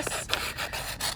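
Craft material for a spooky spider frame being cut, a short series of close, dry rasping strokes repeating quickly and evenly with no voices.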